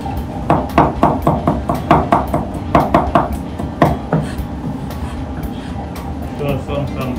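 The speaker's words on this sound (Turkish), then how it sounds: "4 tane önce soğan doğruyorum. İnce ince." Onions being finely sliced on a cutting board, quick regular knife chops in a steady rhythm that break off partway, close and clear with a faint voice beneath.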